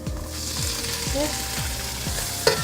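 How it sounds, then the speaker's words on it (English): Hot pepper, tomatoes and pak choi sizzle steadily in a pan, a close, constant frying hiss with a few scraping stirs and a small clink near the end. "And to let that sizzle there, it's time to add the tomatoes and the pak choi."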